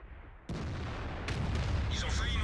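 An artillery piece fires in the World of Tanks video game, a sudden loud boom followed by a second blast and a rumbling, sustained roar of battle noise.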